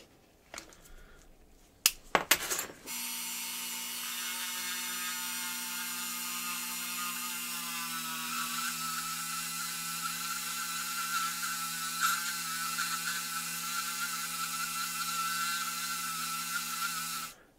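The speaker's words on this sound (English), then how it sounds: "now we're gonna break out our little diamond burrs." A rotary tool fitted with a diamond burr whirs steadily while trimming a diecast model Beetle for a V8 conversion, starting after a few sharp clicks and running as one loud, close, continuous whine with no talking.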